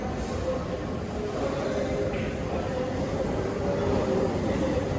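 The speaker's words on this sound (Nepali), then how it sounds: "ओए यहाँ त रेल आएछ रेल" A toy or arcade-style train arrives in a gaming zone, giving a steady loud rumbling roll with a faint whistle-like tone running throughout.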